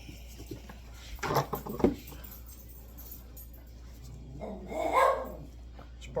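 A dog indoors lets out a few sharp barks in two short bursts, fairly close but not loud, against a quiet background during a deer caping session.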